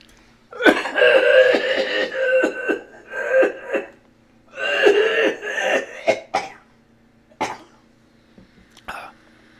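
Several harsh coughs come in bursts, a few rough hacking fits followed by shorter single coughs and quiet gaps between them.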